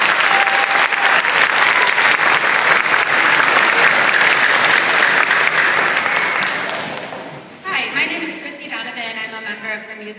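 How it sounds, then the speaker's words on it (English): Audience applauding the music boosters at a 5th and 6th grade spring band concert: loud, dense, sustained clapping for about seven seconds, then fading as a voice begins speaking. "will you just join me in giving a big round of applause to the boosters"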